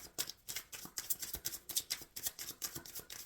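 Soft, rhythmic riffling and flicking of tarot cards being shuffled by hand, quiet and close, with no voices.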